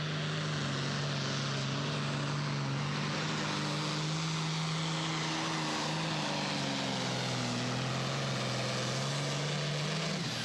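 A farm tractor at a Hillsboro, Wisconsin tractor pull, its engine roaring loud and continuous, the pitch sliding slowly as it labors down the track.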